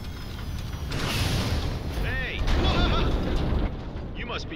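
A mech firing weapons in the video game Zone of the Enders: The 2nd Runner, with loud, continuous booming blasts and whirring energy zaps layered over mechanical rumble, with a voice partly audible beneath.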